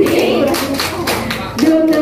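Students doing a rhythmic spirit clap at a special-needs school's Independence Day celebration in Cijeungjing: a few quick claps in a pattern mixed with sung chanting voices, close and loud.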